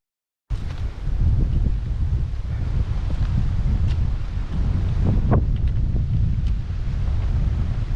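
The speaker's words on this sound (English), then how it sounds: "The wind we get to experience here is coming all the way from Tamil Nadu through the Palaghat Gap" Strong wind sweeping through a forest trail on a trek in Kerala's Western Ghats, blowing in from the Palakkad Gap: a steady, loud, close rumbling roar of gusts buffeting the microphone throughout, with no talking.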